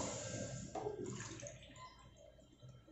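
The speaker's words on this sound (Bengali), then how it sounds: "3 কাপ জল দিয়ে দিলাম।" Water poured into a pot for cham cham sugar syrup makes a soft, close, gushing splash that trickles and gurgles. The sound is fairly faint and tapers off over a few seconds.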